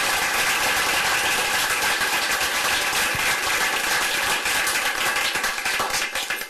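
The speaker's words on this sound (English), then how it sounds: "Give them a big round of applause." A city council chamber crowd claps steadily for a police color guard, dense applause filling the room for several seconds before tapering off at the end.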